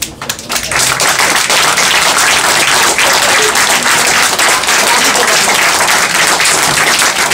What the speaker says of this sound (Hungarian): a szervezőknek egy nagyon nagy tapsot produkálnánk most